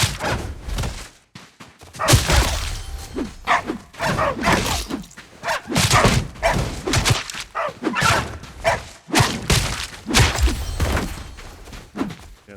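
A bush dog in the Soulmask game gives loud, repeated bark-like yelps and thuds in irregular bursts with short gaps between them.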